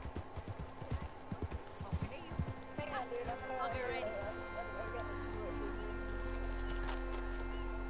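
Horse hooves clip-clop in Red Dead Redemption 2, a run of quick close hoof beats that gives way to steady riding ambience, with voices talking throughout.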